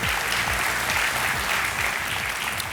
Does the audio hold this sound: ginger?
no